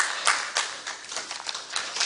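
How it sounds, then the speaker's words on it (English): Scattered clapping from a seminar audience at a cybersecurity forum, a few quick hand claps in loose bursts, fairly soft and brief. "A round of applause for Doc."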